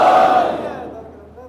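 A crowd at a Muharram majlis in an Amroha imambargah shouts the Nara-e-Haidari slogan "Ya Ali" in one loud collective cry that fades over a second and a half.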